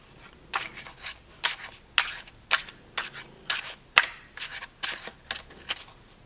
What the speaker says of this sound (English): When it comes to shuffling this deck, this is my second favorite after the greenie.